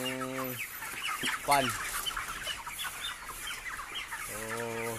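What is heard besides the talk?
chickens clucking on a poultry farm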